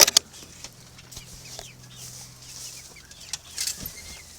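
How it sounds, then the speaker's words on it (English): Young roosters crow in a faint farmyard, with scattered clucks and rustling under a low hum, a stronger crow rising near the end. "They are fully crowing. Even some 4-syllable crows now."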